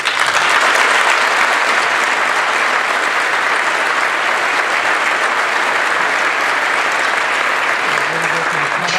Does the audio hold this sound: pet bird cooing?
no